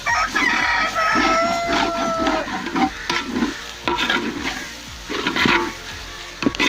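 A spoon stirs ground pepper, chilli and coriander powders through a pot of tapioca and beef biryani, giving repeated scraping, sizzling strokes in a steady rhythm, close and fairly loud, with no talking.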